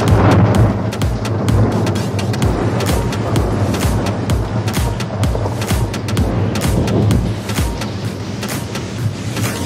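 Heavy rolling thunder from a lightning strike on a church rumbles continuously with a sharp crackling texture throughout, loud and close, with rain-like noise underneath.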